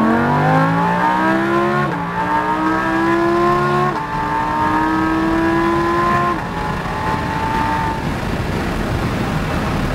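Lamborghini Huracan accelerating hard around the race track at PIR, its engine note climbing loud and close through several rising gear pulls, each dropping at a shift before revving up again.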